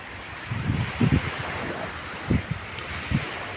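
Sea waves wash ashore at night, a steady hiss of surf and wind with several soft low thumps as waves break nearby.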